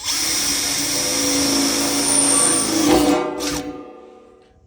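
A power drill bores quarter-inch holes through the lids of barrels packed with cherry wood for charcoal, a steady loud whine that climbs in strain near the end, then cuts off and winds down into silence.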